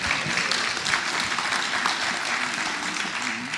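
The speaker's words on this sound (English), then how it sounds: "I think we want a small round of applause for John." A room of attendees at a public group meeting in Bridport gives a round of applause, steady moderate clapping sustained throughout with a faint voice murmuring beneath.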